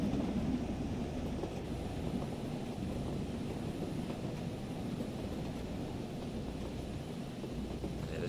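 A train rumbles along steadily in Train Sim World 4 on the Peak Forest route, a continuous low rolling drone with faint wind-like noise, quiet and unbroken throughout.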